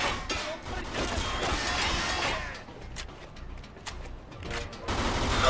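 Loud shotgun blasts and crashing impacts fill the first half of a brothel shootout in the video game Mafia II, then sparser sharp shots ring out amid quieter noise.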